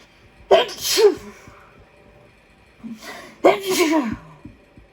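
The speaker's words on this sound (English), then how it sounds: "It must have been a strong sneeze." Two loud, close sneezes, each with a sharp intake of breath before, spaced a few seconds apart.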